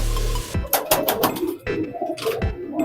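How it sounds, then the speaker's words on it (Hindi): Pigeons in a breeding loft, including red-ringed, golden and brown birds, give soft throaty coos and wing flutters in short bursts close by, with no talk over them. "ये देखें आप एक से एक कबूतर यहाँ पर।"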